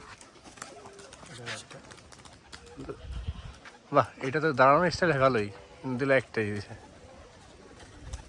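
Pigeons at a backyard pigeon farm coo in throaty bursts up close, mixed with someone talking over them.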